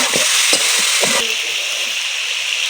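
Mutton frying in released oil in a pot for curry gives a steady broadband sizzle, with several low stirring scrapes and knocks in the first second before settling into a continuous close hiss.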